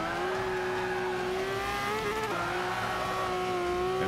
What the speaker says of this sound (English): We'll drive a couple turns here just to.